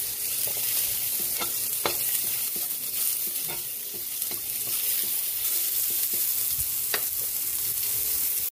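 Onion sizzles steadily in a hot frying pan for pork menudo, with a utensil stirring and scraping in scattered clicks throughout, close and continuous with no talk.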